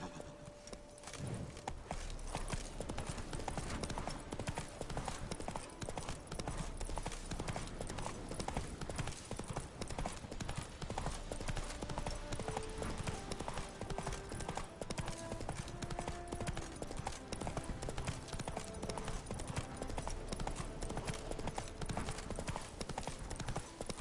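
Horse hooves clip-clop steadily in The Witcher video game, a continuous rhythmic trot running under game music and ambience, with a brief whinny possible.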